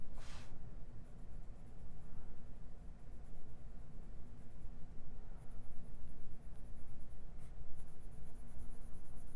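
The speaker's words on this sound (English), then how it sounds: "Kind of using the side of the pencil." A Polychromos colored pencil shading on paper with the side of the lead, a continuous close scratchy rasp of repeated strokes with brief lighter gaps.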